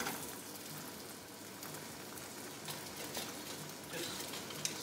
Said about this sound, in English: You just want to hear them frying.